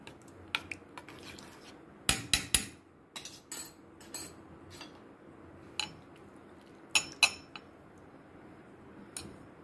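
A spoon stirring yogurt into a mixture, clinking against the bowl in scattered sharp metallic taps and short bursts, close and fairly quiet, alone with no talk.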